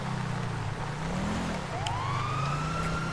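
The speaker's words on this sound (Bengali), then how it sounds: "এই কিরে পুলিশের গাড়ির সাউন্ড কেন এখানে?" A police car siren wailing nearby, its rising and falling tone sweeping up and down, heard continuously over background traffic noise.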